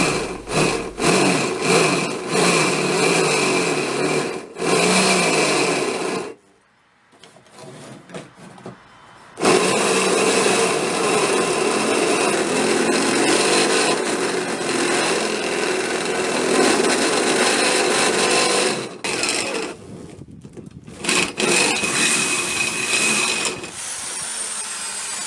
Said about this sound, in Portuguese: Fiz primeiro um furo com uma broca de 10 mm e depois uma broca de 18 mm